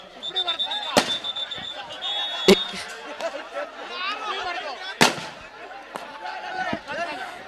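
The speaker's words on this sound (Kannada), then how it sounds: "ಎಂತ ಪಟಾಕಿ ಇಟ್ಟಪ್ಪ" Firecrackers bursting at a school kabaddi grand final, with several sharp, loud bangs spaced a few seconds apart over a crowd's chatter.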